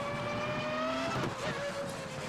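Race car engine in a Star Wars–themed racing simulation game, a steady high whine with shifting tones and a brief tire squeal, loud and continuous with no talk.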